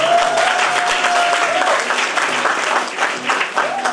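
An audience at a Kazakh aitys, an improvised poetry duel, claps loudly and steadily for the whole four seconds, a dense close wash of hands with a faint sustained tone riding over it.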